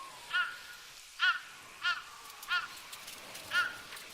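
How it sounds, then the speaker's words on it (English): Crow cawing in a samurai video game, five harsh calls spaced about a second apart over a faint windy background, fairly distant and alone without talk. "A bird. What kind? A crow. She has a lot to say."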